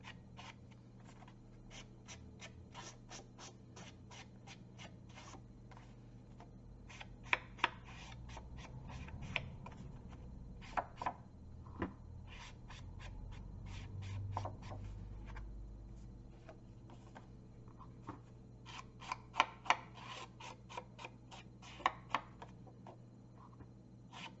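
Card stock edges being inked by hand with a Stampin' Up brown ink pad, giving a steady soft rubbing and dabbing with many quick light taps and occasional sharper clicks, close and alone.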